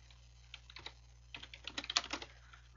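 Fingers type on a computer keyboard in quiet, irregular clusters of clicks, sparse at first and then a denser run of keystrokes, close by in a silent room.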